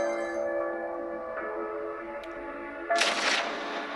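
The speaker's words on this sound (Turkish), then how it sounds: "Ortalama birkaç saniye sonra patladı." An explosion in the Raptor crash betting game: a sustained tonal musical drone gives way near the end to a sudden loud noisy burst, with no talking.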